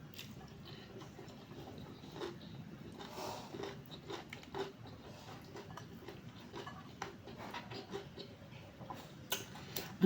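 Close, quiet crunchy chewing and biting while eating cooked banana heart in coconut milk, a steady stream of small crackles and chomps with brief pauses.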